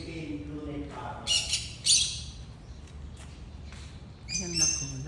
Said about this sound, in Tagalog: Mga ibon ang nandito. Hi! May ingay. Red Electus Parrot. May ingay.